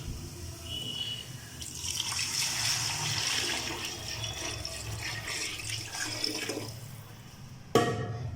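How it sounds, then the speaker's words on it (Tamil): Measured water poured into a pressure cooker over cooked masala, a steady splashing pour running for several seconds, fairly close and moderately loud, ending with a sharp clatter near the end. "இப்போ அளவு தண்ணி எடுத்து வச்சுருக்கேன், ஊற்றிடுவோம் குக்கரில்"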